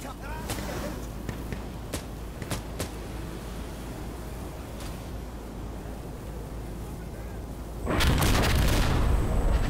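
Artillery shells pounding the battlefield in the Insurgency shooter game, heavy rumbling blasts and sharp cracks over steady noise, swelling into a loud, dense barrage near the end.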